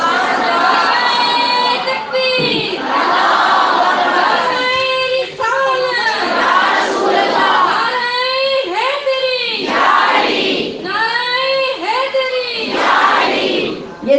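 Crowd at a religious gathering at a branch opening ceremony in Gujrat, chanting slogans in loud, rhythmic bursts of many voices, with repeated swells and brief dips between shouted phrases.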